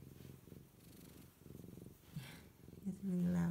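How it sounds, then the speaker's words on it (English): A Tibetan cat purrs loudly and close up in a steady rhythmic rumble of repeated inhale-exhale pulses, with a brief vocal sound near the end. "It's a really loud purr, really cute."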